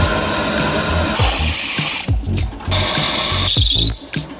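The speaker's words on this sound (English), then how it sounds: "I need to drill pinholes in this" A drill bores pinholes through a steel push dagger blade, a loud whirring tool sound in bursts that dip and restart several times, with short pauses between passes.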